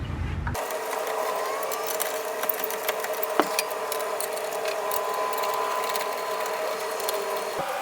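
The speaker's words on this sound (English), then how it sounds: "here I'm going to snug up the lug nuts before I drop and put weight on the wheel" A ratchet snugs up the lug nuts on a Chevrolet Equinox wheel with a steady, close mechanical whirring and clicking that runs on without pause, broken by one sharp knock.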